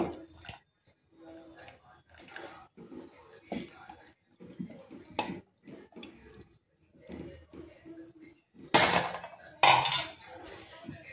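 Wheat batter for kurdai is whisked in a pot, giving scattered light scraping and clinking taps with a couple of louder metallic knocks near the end, all under someone speaking steadily.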